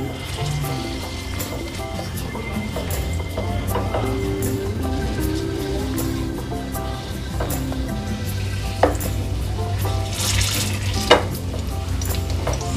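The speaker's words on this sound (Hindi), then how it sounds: "हमारा ये तेल घी गरम हो गया है। इसमें अब हम ये बेसन भूनेंगे।" Gram flour (besan) roasts in hot ghee and oil with a steady soft sizzle and occasional scraping stirs, close by, under light background hum and without speech.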